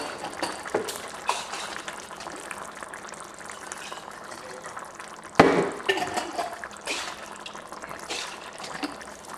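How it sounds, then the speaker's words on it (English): Water is swished and poured while rinsing spaghetti sauce jars in a kitchen, producing close sloshing, dripping and liquid splashes with a sharper glassy knock midway, without any talk. "I like to rinse out the jars with a little bit of water to get everything out."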